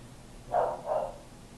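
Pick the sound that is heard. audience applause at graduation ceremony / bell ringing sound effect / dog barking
dog barking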